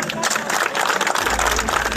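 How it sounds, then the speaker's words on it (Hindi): Crowd at an election campaign event for an independent candidate in Rai assembly constituency breaks into loud, sustained applause and clapping, filling the short moment with dense noise. "आपके लिए एक बार जोरदार तालियां"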